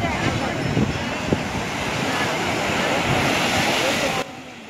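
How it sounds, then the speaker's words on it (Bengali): Sea waves roaring at Puri beach at dawn, a broad, constant rushing roar with wind buffeting the microphone, ending in a sudden drop in level. "সমুদ্রের গর্জনের আওয়াজ তো আপনারা শুনতেই পাচ্ছেন"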